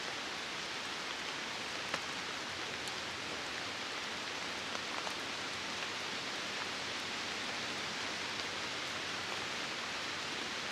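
Rain falls steadily at a river at night, a dense, even hiss that stays constant with no voices.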